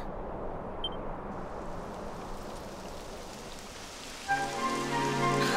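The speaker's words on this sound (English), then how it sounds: "It would have to go and start raining, wouldn't it?" Steady rain patters on a surface in a continuous wash in the video game Dragon Quest XI, joined near the end by a brighter sustained tone layered over the downpour.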